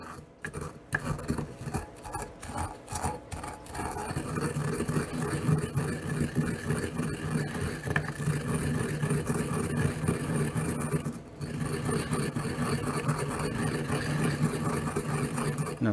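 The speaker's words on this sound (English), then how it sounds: "I then use a good old-fashioned mortar and pestle." Clean eggshells are ground in a mortar and pestle, giving close, continuous gritty scraping and crunching with irregular rhythmic strokes.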